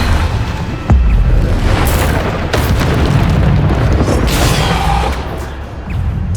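Booming explosion bursts from the Bombarda spell in the Hogwarts Legacy video game, a heavy blast near the start followed by sustained rumbling and further thuds, loud and with no talk over it.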